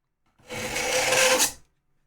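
A short, bright metallic scraping of a knife drawn across a knife sharpener, one continuous stroke lasting about a second, close and fairly loud.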